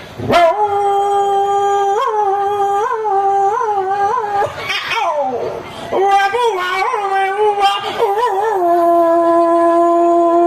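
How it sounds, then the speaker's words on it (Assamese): A puppy howls in long, wavering tones that rise and fall like a sung melody, loud and close, with a brief noisy break midway before a second drawn-out phrase. "এতিয়া এই কুকুৰৰ পোৱালিটোৱে গীত গাব"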